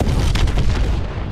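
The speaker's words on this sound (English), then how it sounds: "Friendly missile strikes incoming." Missile strike explosions during a Hardpoint match in Call of Duty: Advanced Warfare, heavy low booms rolling together into a continuous rumble with a few sharper bursts.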